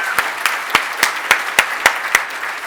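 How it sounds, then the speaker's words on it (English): Audience applause for an event organizer at an OpenStack Foundation community gathering, heard as a sparse, steady run of distinct claps at an even rhythm, fairly close and moderate in volume. "Please, massive round of applause for Jess."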